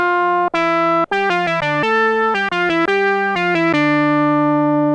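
An Arturia MatrixBrute synthesizer with added sub oscillator plays a quick buzzy melodic line of short separate notes, rich and harmonic, ending on a held note, loud and close.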